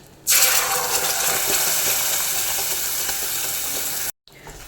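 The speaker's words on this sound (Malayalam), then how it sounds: "നമ്മൾ നേരത്തെ അരച്ച് വെച്ചേക്കുന്ന തക്കാളിയുടെ മിക്സ് ഒഴിച്ചു കൊടുക്കാം" Ground tomato mixture for chutney pours into a hot pan, setting off a loud, sustained, hissing sizzle that starts abruptly and runs for about four seconds before cutting out, with no voices.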